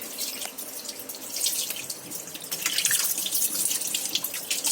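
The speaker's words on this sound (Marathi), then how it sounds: "त्यासाठी नळ पण चालू ठेवायचा. म्हणजे पाण्याबरोबर आहे ना त्याची घाण पण अशी निघून जाते" Tap water runs into a bathroom basin while goat intestines are washed, a steady bright splashing hiss that swells slightly and continues alone without any voices.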